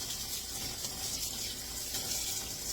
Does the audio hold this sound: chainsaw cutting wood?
no